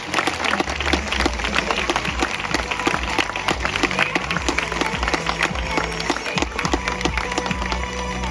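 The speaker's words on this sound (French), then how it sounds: "On peut applaudir très fort une dernière fois" Sustained, dense crowd applause with cheering fills the whole stretch, loud and steady, at a sea lion show at La Flèche Zoo.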